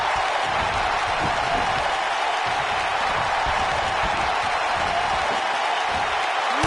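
A WWE 2K19 video game wrestling arena crowd gives out a constant, dense roar of cheering and applause, loud and unbroken, with no clear talk on top.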